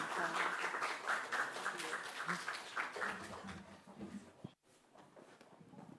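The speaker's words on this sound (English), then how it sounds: "Give them a round of applause." An audience at a Miss Equality World pageant claps and cheers in a sustained burst of applause that fades toward the end, with speech mixed in.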